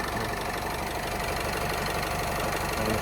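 A 2011 Opel Vivaro van's 2.0-litre engine idles with a steady, slightly knocking low rumble, constant and close for the whole stretch with no voices.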